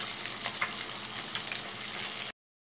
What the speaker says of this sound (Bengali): এইভাবে আমি সব মাছগুলো ভেজে নেবো।